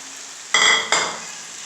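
Fried chicken being stirred into a thick sauce in a pan: two quick, loud scraping stirs with a spatula over a soft background sizzle, no voices.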